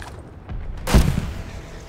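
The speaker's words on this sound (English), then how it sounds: "Dez, fire the flare." A flare launched in Call of Duty: Vanguard, one sharp loud burst with a whooshing rush that trails off over a steady battlefield rumble.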